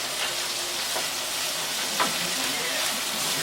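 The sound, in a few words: capsicum sauteing in oil in a pan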